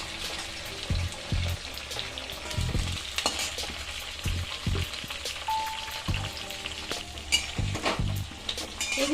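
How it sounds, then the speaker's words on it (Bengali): Chopped tomato fries in a pan while being stirred, for a katla fish curry with potato and cauliflower. A loud, continuous sizzle runs throughout, broken by repeated rhythmic scrapes and thumps of stirring. "টমেটোটাকে কুচিয়ে রেখেছিলাম সেটাও দিয়ে দিলাম দিয়ে আমি একটু ভেজে নেব"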